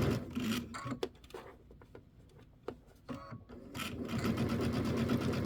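A sewing machine chain-piecing quilt pieces for a Kimberbell pumpkins-and-potions quilt, running in close, loud bursts with short pauses and handling noise between runs, then settling into a steady stitching hum toward the end.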